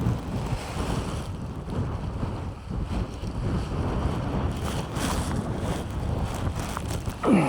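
Strong, sustained wind roars and buffets a tent on a wild camp during Storm Amy, loud and continuous with gusty swells and no voices.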